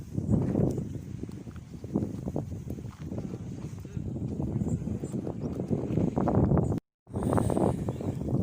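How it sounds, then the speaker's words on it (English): Gusty wind buffets the microphone on a hillcrest with low rumbling bursts, with a brief dropout near the end. "very windy, which you're probably picking up on the microphone"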